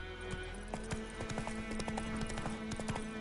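Horse hooves clip-clop steadily in The Witcher 3, a brisk, even rhythm of close hoof strikes over a constant background of ambient game sound.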